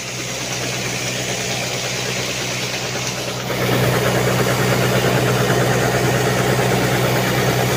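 A modern rice harvesting machine's engine runs with a steady, droning idle and a vibrating rumble. Partway through it gets louder and busier, as if the machinery has engaged or the listener has moved closer. No one talks.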